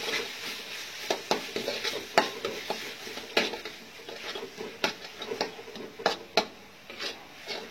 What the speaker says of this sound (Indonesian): Oseng-oseng sebentar.